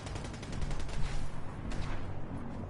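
Rapid bursts of gunfire in the video game Fallout 4: a dense, continuous volley of overlapping shots that rolls on for a few seconds at moderate loudness, with no talking.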